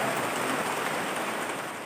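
Rain pours down in a dense, steady hiss of countless drops striking surfaces, close and even throughout the short stretch, with no voices.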